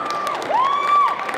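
Crowd at a cosplay conference in Saint-Étienne cheers and shouts, with a rising and falling whistle or high-pitched cry standing out over the steady crowd noise for a brief moment.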